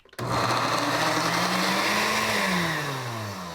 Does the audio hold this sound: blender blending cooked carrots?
yes